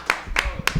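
A few people clap for the mayor of Birmingham, Alabama. Three loud, sharp bursts of hand claps come close together, with faint voices underneath.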